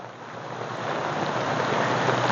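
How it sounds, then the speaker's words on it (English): Heavy rain pours outside at a chicken-keeping homestead, a steady, loud, dense hiss of drops on surfaces that swells slightly and holds constant. "I just want to show you how much it's actually raining."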